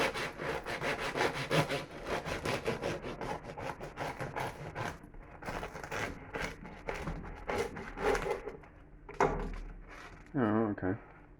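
A knife saws through a large loaf of hot water bread with repeated rasping strokes close up, some of them heard under talking.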